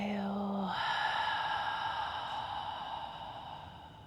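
A long, slow, audible exhale, like a sigh, fades gradually over several seconds during a gentle yoga breathing exercise, with a steady tonal hum behind it.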